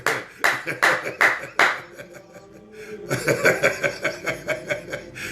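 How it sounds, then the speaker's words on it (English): Clapping at a church prayer gathering: several sharp, rhythmic claps in a steady beat, then a pause with faint voices, followed by a quicker run of claps mixed with voices. "Let us clap for the ladies."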